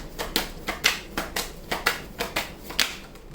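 Tarot cards drawn and handled during a reading, with about a dozen crisp snapping shuffles and flicks in a steady rhythm, close and fairly quiet with no talking.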